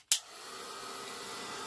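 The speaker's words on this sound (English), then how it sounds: "we're just going to heat emboss that." Heat tool blowing hot air to melt embossing powder on a stamped card, a sharp click as it switches on followed by a steady, fairly faint whooshing hiss that continues alone.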